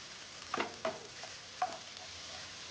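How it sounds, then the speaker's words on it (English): Food being stirred in a pan, a few soft scraping strokes over a faint, quiet sizzle, sparse and close with gaps between movements. "Just stir it again"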